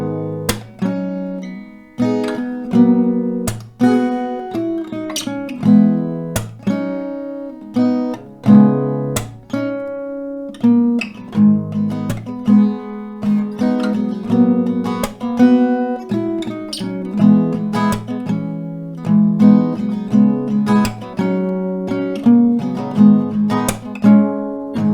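Acoustic guitar strumming through the chord changes of a song, played solo as a lesson example, with steady rhythmic strokes and ringing chords throughout, no talking.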